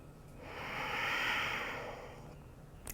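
A single slow yoga breath, a soft airy exhale swelling and fading over a few seconds, close and quiet with no talking.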